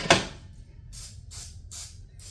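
Cooking spray hissing onto an old baking pan in a home kitchen, several short bursts after an initial clatter, close and fairly quiet.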